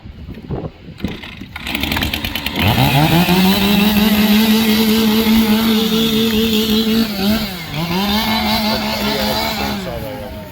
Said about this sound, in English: they're going to need a second here to warm up their saws to make sure that they are ready to go